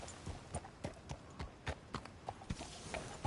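A horse galloping in a PS4 video game, hooves clip-clopping in a quick, even rhythm of about a dozen crisp strikes, fairly faint and close, with no talk over them.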